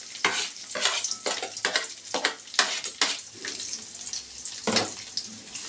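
Onions and green chillies sautéing with mustard seeds and curry leaves in a pan, repeated spatula scrapes over a crackling sizzle, close and fairly loud, no talking.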